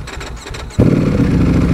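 A 2018 Ducati Panigale V4S motorcycle starts: a short cranking whir is followed by the engine catching and settling into a loud, steady rumble close by.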